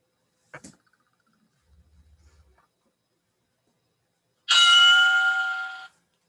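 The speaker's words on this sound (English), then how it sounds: "All the way through the bell." A workout interval timer bell rings once during a bootcamp class, a loud bright chime with ringing overtones that holds for over a second before cutting off, following a brief knock and a low soft rumble.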